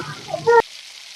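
Fritters (bora) sizzle in hot oil for a brief moment, a soft crackle that cuts off abruptly partway through.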